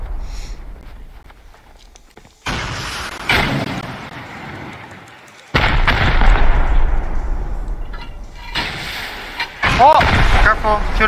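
HV rockets fire and explode in a video game: sudden loud blasts at intervals, each followed by a long decaying roar, the strikes growing heavier toward the end.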